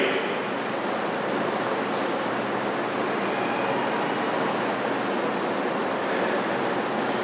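Water poured steadily into a basin for a classroom science demonstration, a continuous broadband splashing rush that holds at an even level throughout with no voices over it.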